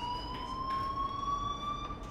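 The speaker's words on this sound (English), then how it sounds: "do you hear that fire alarm? That means you should be outside." A fire alarm ringing in the video game Life Is Strange: a steady, high electronic tone held for about two seconds, faint and distant over low background hum.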